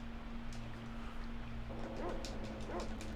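Dog barks from the Secret of Evermore video game, a few short yipping calls in the latter half over steady game music and background hum.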